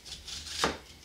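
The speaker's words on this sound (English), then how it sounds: "cut them in half" A knife cuts apple slices in half on a cutting board, a single soft close chop landing midway over faint background hiss.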